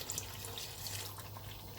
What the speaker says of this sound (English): I'm going to add about half a cup of water